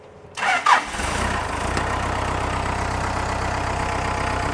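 A Pettibone 10056 telehandler engine cranks in two quick bursts, then catches and settles into a steady, loud idle right after a transmission rebuild.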